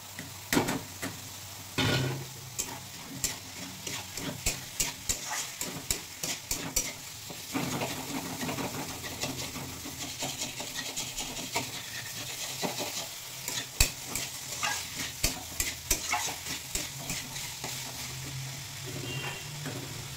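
Jackfruit fries in a spice masala in a pan, giving a continuous sizzle under repeated scraping and clattering stirs of a spatula against metal, close and busy.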